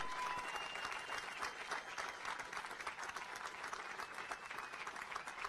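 A crowd at a high school graduation keeps up a continuous, dense round of applause from beginning to end, heard at a fairly distant, moderate level.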